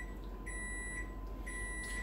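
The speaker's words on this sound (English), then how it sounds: "I think the timer's about to go off" An oven timer beeps faintly in two short electronic tones about a second apart over a low kitchen hum, with no voices.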